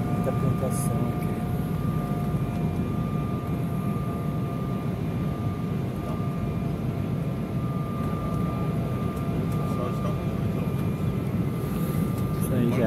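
Steady, loud cabin drone of an airplane as it begins descending to land at Porto Alegre, a constant engine rumble with faint tones, heard from inside with occasional talk underneath.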